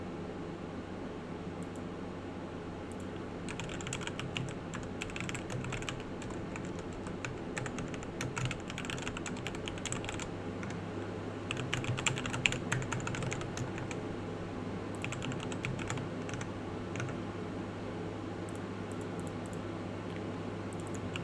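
Steady, fast clicking of computer keyboard typing runs throughout, fairly close and continuous, over a constant low fan-like hum with no talking.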